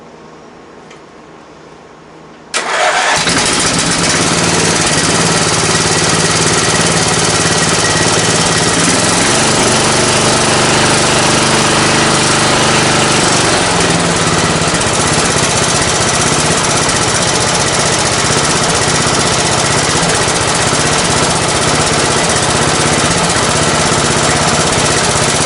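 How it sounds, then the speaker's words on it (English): A Craftsman 42-inch riding lawn mower engine cranks and fires after a short quiet stretch, then runs loud and steady close by for the rest of the time with no voices. "see if this thing will fire up"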